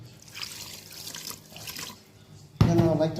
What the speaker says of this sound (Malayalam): ഉലുവ വെള്ളമൊഴിക്കുന്നത്